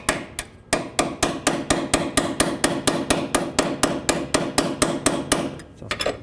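Close, loud hammering as a brass hammer drives strut bolts out of a 2002-06 Toyota Camry rear suspension: a quick pair of blows, then a long unbroken run of around twenty rapid, regular metallic taps, with nobody speaking.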